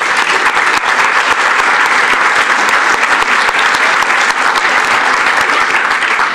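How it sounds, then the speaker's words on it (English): An audience at a 2015 Davidson County mayoral candidates forum applauds the candidates with steady, dense clapping that holds loud and even for the whole stretch, with no voices over it. "let's please give them a round of applause"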